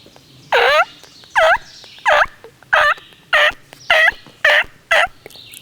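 A hunter's call imitates a turkey yelp in eight evenly spaced, sharp, nasal notes with a stiff, unnatural cadence, loud and close.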